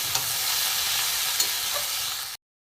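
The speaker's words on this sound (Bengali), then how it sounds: "একটু পেঁয়াজটা দিয়ে একটু ভালো করে ভেজে নেব" Sliced onion frying in a pan for a vegetable roll snack, a steady broadband sizzle with a couple of faint utensil taps, running continuously for about two seconds before cutting to silence.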